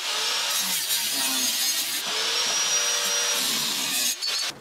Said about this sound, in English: we got the bar cut to size and angle, so Ross